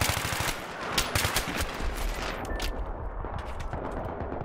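Bursts of A-91 rifle fire in Battlefield 3 rattle through a busy battle, fast repeated shots at close range that thin out toward the end.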